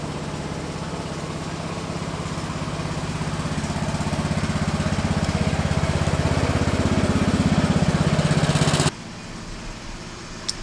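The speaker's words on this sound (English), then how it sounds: "And here comes Clancy with the tractor." A tractor engine droning as it drives past, the steady low rumble swelling louder as it approaches, then abruptly cut to a quieter background near the end.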